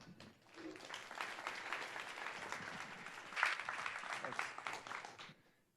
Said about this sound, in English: Can everyone give him a big round of applause?